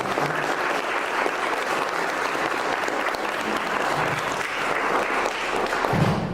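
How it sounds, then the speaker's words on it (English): An audience at a university political communication panel gives the guests a long, steady round of applause, dense clapping that holds at an even level throughout. "Let's give our guests a round of applause"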